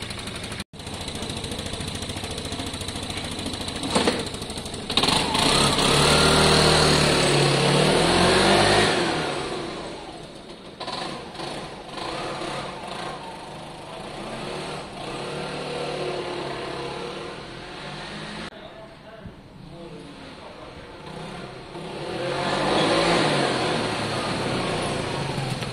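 A Piaggio Fly scooter engine running after a carburettor rebuild, revving up and settling back down in uneven waves, close and steady throughout with no talk.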